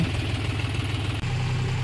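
A tractor engine runs steadily at idle, a loud low throbbing chug that continues without a break from start to end, with no voices over it.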